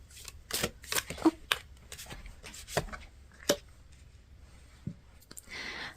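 Tarot cards are shuffled close up in a series of quick, crisp riffles and slaps in an irregular rhythm, with brief pauses between bursts.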